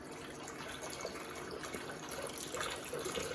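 Filtered reverse-osmosis water pours steadily from a container into a blender with cashews, a close, continuous splashing gush.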